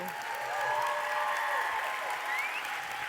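An audience at a coaching leadership award event gives a round of applause, steady and moderately loud for about three seconds, with a few whoops and cheers rising over the clapping.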